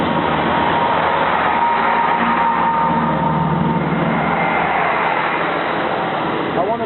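A train passes at Bramley station level crossing with a loud, continuous rumble and rattle of wheels and carriages close by, and faint voices behind it.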